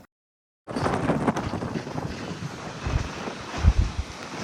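Wind gusting across an open hilltop at Melukote, a steady broadband rush with low buffeting against the microphone, beginning abruptly after a short silence and swelling in a few heavier gusts near the end.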